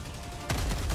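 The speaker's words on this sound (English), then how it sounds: "I fired my gun." A gun firing in the co-op shooter Helldivers 2; a sudden loud burst of rapid shots cuts in halfway through, over dense game noise, with no talk.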